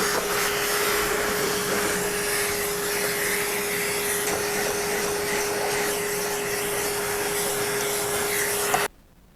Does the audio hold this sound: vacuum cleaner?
yes